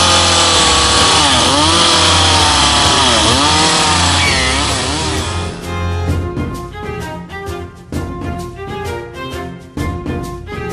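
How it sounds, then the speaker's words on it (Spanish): A chainsaw carves a staff from a dry tree at a San Juan night festival in Zafra. It roars loudly and steadily for about five seconds, then gives way to a stream of regular pulsing tones that sound like music. "El tallado de una vara en un árbol seco ejecutado con motosierra por la artista local Lupe Arévalo"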